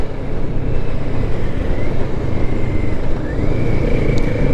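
A Kawasaki Z650RS motorcycle engine runs under heavy wind rush while being ridden, with a steady drone whose pitch drops and then climbs again around a downshift, loud and continuous without speech.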